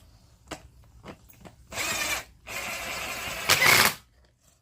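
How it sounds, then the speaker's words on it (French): Screws are driven back into the starter housing of a Stihl trimmer with a power driver, heard as short whirring bursts separated by quiet pauses, close and fairly clear. "On aligne les trous avec les vis. Et on remet les vis."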